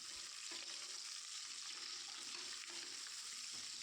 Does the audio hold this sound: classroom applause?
no